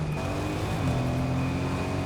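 Car engine in Fortnite running at a steady hum, a continuous close motor drone with a constant tone and no gaps.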